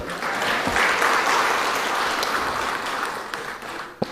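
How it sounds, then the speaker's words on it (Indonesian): Audience applause at a Jokowi ceremony handing over the 2024 DIPA budget documents, a steady wash of many hands clapping that holds for about four seconds before tapering, with no talk over it. "Tepuk tangan dulu lah."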